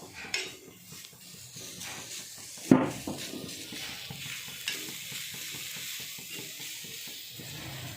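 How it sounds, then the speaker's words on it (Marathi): A large onion roasts in a pan over a soft background sizzle. It is stirred with intermittent scraping and clinking of a utensil against the metal, and one sharp clatter occurs near the middle. "बघा कांदा आता मस्त करपलेला आहे, भाजून घेतला आपण"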